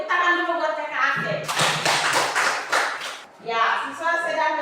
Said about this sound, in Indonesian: Tepuk tangan dulu buat Kakak Ake.